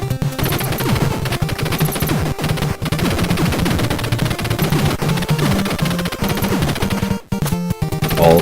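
Machine gun and spread fire from the NES Contra video game: rapid, loud bursts of 8-bit gunfire rattle in dense repeated volleys, with brief gaps and explosion-like crashes near the end.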